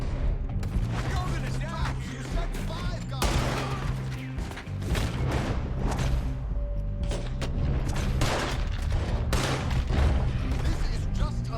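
Gunfire in the Western video game Red Dead Redemption 2: repeated shots and booming blasts over a dense battle mix. Voices and game sound run underneath throughout.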